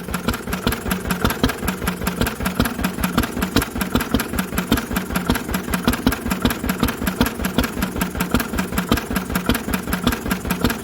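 An old Lister engine, being started for the first time in 40 years, runs with a silencer fitted, giving a close, loud, steady rhythmic chugging thump that stays even throughout with no talk.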